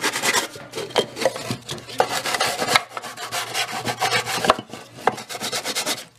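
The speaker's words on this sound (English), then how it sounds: "Take a little sandpaper, front and back." Sandpaper rubbed back and forth over the wooden parts of an amp kit, a close, steady rasping scrape with short pauses and a few sharper strokes, no voices.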